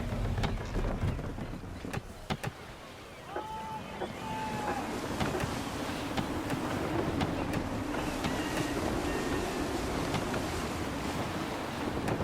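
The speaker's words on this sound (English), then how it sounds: "Gusty winds can be difficult to manage." Gusty sea wind in Assassin's Creed 3 rushes steadily around a sailing ship, with waves washing against the hull. A low constant roar is overlaid by faint creaks and tones, and a voice speaks briefly.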